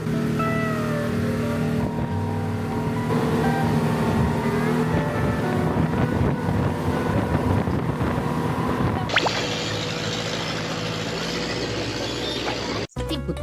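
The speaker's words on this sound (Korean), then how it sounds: "이렇게 배를 타고 홍섬 투어 일정을 시작하는데요." Boat cruising over calm sea on an island-hopping tour off Krabi, Thailand, with a steady engine drone and rushing water and wind noise throughout, the hum shifting brighter partway through.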